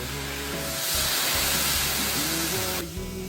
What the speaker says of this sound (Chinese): 倒入龙虾米酒。